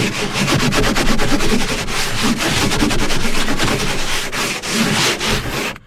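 A canoe hull is hand-sanded before fibreglass resin goes on, a loud, close, continuous rasping rub in quick back-and-forth strokes that runs without a pause and with no talking.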